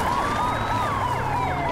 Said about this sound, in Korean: 이때 사이렌 소리가 울리고